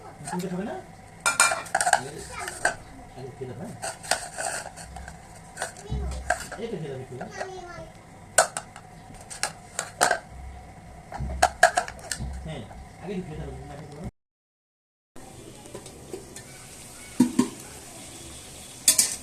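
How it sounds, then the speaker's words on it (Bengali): Vegetable stalks and potatoes sautéing in a pan, heard mostly as busy clatter of a metal spoon against the pot with light sizzling underneath, near and uneven; a voice and other talk come and go, with a brief silent gap. "আরো একটু কষিয়ে নেব"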